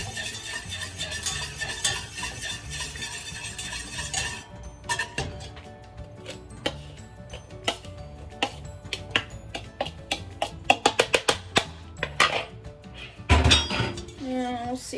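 Sugar, salt and cocoa powder being stirred into brownie batter for beet brownies, with busy close scraping and clinking of a mixing tool against the bowl, quieter uneven strokes later and a brief voice near the end.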